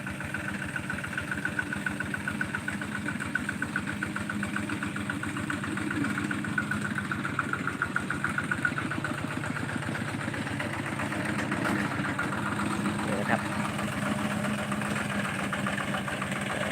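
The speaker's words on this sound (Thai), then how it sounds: "ใช้รถไถเดินตามนะครับผม" Walking tractor engine idling steadily in a garden setting, a continuous mid-low rumble with even rhythmic pulsing throughout, close by and alone with no talk.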